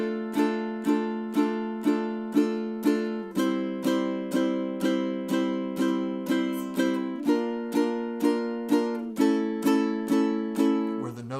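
A ukulele strummed in a steady march-like rhythm, each chord ringing out fully rather than muted, bright repeated strums with a few chord changes, played alone and close.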